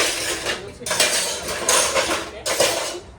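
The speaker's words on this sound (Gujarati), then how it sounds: "તો ચાલો ફટાફટ વાસણ ગોઠવી" Metal dishes and pots clatter and clang as they are stacked, in several loud bursts of jangling close by.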